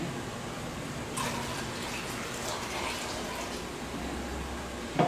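Water pouring into a prefilled hydroponics container, a continuous splashing gush that starts after a second and runs on steadily, ending with a brief knock.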